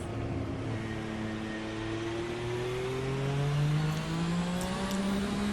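A 1986 Formula RSS race car with a V6 engine in the Assetto Corsa sim pulls from low revs, its buzzing drone rising smoothly and steadily in pitch as it accelerates, loud and alone.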